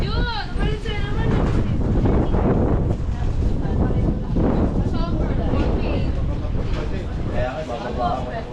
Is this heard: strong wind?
yes